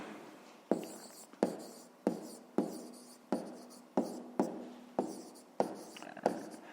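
Pen strokes scratch out a math exercise answer in a steady rhythm, with about ten sharp, close taps and scrapes spaced roughly half a second apart and no voices.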